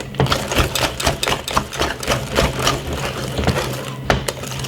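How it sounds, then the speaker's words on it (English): A hand whisk beating sponge cake batter in a bowl, a steady run of quick rhythmic clicking and scraping strokes that sound close and fairly loud with no talk. "Give it a whisk."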